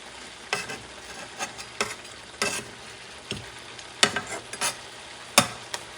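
Sweet and spicy Korean galbi short ribs sizzle in a pan, a constant close frying crackle broken by irregular sharp spatters and pops, with no talking.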